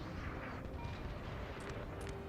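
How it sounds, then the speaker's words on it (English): Artillery firing in Napoleon Total War: a dense, rumbling barrage of distant booms blends into continuous battle noise for a couple of seconds. "seemingly there's some artillery out here somewhere firing"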